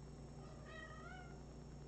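Kittens at an adoption setting give a single faint, drawn-out meow with a rising, wavering pitch over steady low hum.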